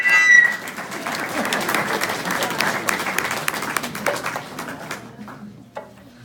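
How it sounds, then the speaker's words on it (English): Mourners at a celebration of life applauding a family member as she comes up to speak; moderate steady clapping in an indoor hall, tapering off over the last second. "Would you please give a round of applause for Patsy?"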